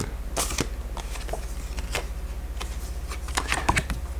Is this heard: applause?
no